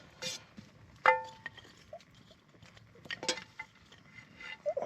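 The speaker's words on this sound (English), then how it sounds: "Let's just brush out the pan a moment." A camping pan is brushed out by an outdoor fire in an ancient woodland, with soft scraping strokes and a few sharp metallic clinks and taps as it is handled, close and fairly quiet.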